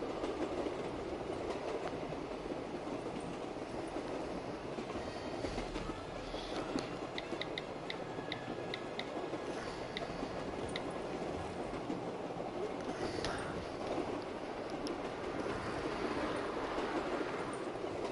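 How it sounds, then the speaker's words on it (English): Train riding along in Gorod Krovi, a steady dense rumble with rhythmic clatter and brief metallic squeals and rattles, continuous and close for the whole stretch with no talk. "I ride this train every damn day."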